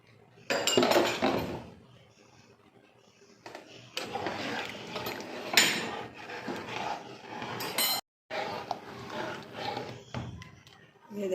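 A spoon clinks and scrapes against a cooking pot as chicken nihari thickened with flour is stirred, producing repeated close metallic knocks and scrapes in bursts, with brief pauses between.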